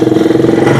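Motorcycle engine revving hard in low gear while carrying eight bags of cement, a loud, close, strained mid-pitched drone with a rapid pulsing beat through the short burst.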